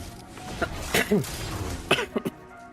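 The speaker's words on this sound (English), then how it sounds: "I apologise for the coughing and blowing eardrums out" Several short, rough coughs and throat-clearing bursts from a man close to the microphone, coming in two small clusters over a quiet background.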